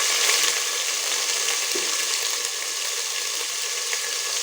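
Spices tempering in hot oil with two spoons of ginger added, for Bengali bhoger khichuri; a steady, loud, even sizzle fills the whole stretch with no voices.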